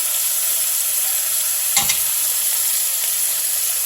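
Oil sizzles in a skillet as chicken and zucchini cook, a steady loud hiss with a brief louder crackle partway through and no talking.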